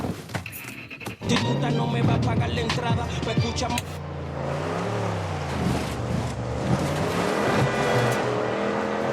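A fast little truck mounted with a gun drives in Far Cry 6, its engine roaring steadily with shifting revs and pitch swings, loud and continuous, while a voice talks briefly at the start.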